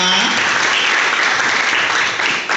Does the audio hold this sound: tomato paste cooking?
no